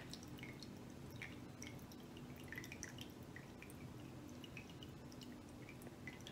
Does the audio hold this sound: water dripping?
yes